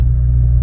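Inside the cabin of a 2025 Ford Maverick Tremor fitted with a Thermal R&D cat-back exhaust, a steady low engine and exhaust rumble at cruise, loud and even across a short moment.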